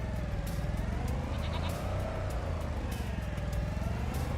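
Sheep bleating on a farm in Farming Simulator 25, a wavering call over a constant low engine-like drone and faint clicks.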